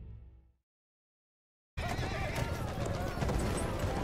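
A horse from the Battlefield 1 video game, with a brief sound cut off into silence, then a loud close burst of neighing and clattering hooves mixed with battle noise.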